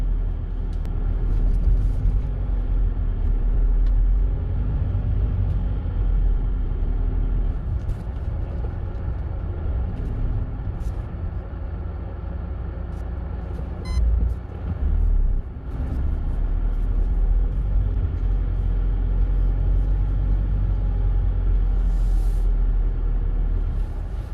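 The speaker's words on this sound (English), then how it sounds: "So I'm going to have a quick drive around" A car drives slowly around a supermarket car park, a steady near engine rumble with a brief dip and a few faint knocks, running continuously.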